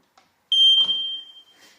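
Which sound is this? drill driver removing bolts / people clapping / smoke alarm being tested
smoke alarm being tested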